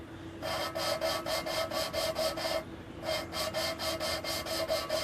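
Rhythmic rasping strokes of valve lapping on a Chrysler 4.7 cylinder head, a gritty back-and-forth rubbing repeated in quick even bursts with a short pause midway, close and steady.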